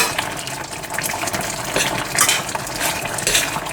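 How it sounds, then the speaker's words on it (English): A spoon stirs a pot of simmering apricot and chili chutney with a dash of whisky, giving a close, wet scraping and bubbling with faint clinks against the pot, steady and brief. "Keep on stirring so that it doesn't burn on the bottom of your pot."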